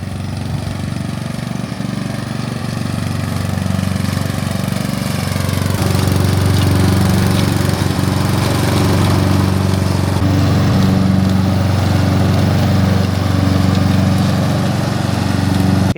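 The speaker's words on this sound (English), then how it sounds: "It was time to mow our meadow for the first time this year." A ride-on mower drones steadily and close while mowing a meadow, its engine a constant rumbling hum that grows slightly heavier midway with no break.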